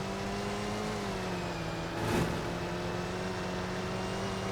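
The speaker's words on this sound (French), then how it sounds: "j'ai l'impression qu'elle accélère plus vite" Car accelerating in the Roblox video game, a steady synthetic engine drone with a brief louder swell midway, no voices.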